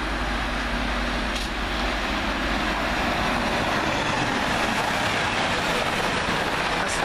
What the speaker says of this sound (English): This one coming down the fast lines, 1 Victor 48 from York through to, I believe, Exeter St Davids.